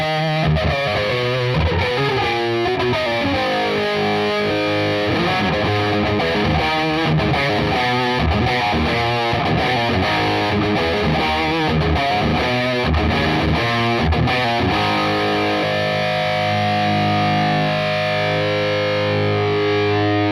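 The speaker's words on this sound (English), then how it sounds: "When using distorted tones, I think that flanger really adds sort of movement to your sound" A modified MXR flanger pedal sweeps across a distorted electric guitar, loud chugging riffs and sustained chords taking on a swirling, jet-like movement throughout, with no voices.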